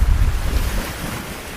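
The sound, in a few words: sea waves on a rocky shore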